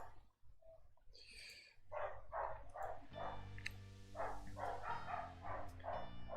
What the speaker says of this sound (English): Oh god, the dogs.